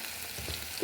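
Spiced masala for an egg and soya chunk curry sizzling in oil in a pan, a soft steady frying hiss with a slightly louder bubbling spurt near the end, close and alone with no talk.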